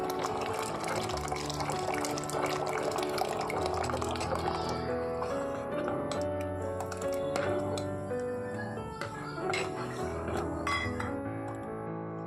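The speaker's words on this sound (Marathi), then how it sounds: "ह्याच्यामध्ये आपण पाण्यामध्ये मिक्स केलेलं बेसनचं पीठ आहे ते सावकाशपणे सोडणार आहोत" Gram flour batter mixed with water is poured slowly into boiling water for patal pithla while the pot is stirred. A steady, continuous watery pouring and bubbling runs throughout, with light clinks of the spoon against the pot.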